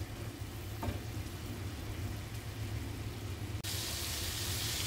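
Spice paste (masala) fries in a pan for a mourala fish dish: a continuous, even hiss of cooking that brightens abruptly partway through, with no voices.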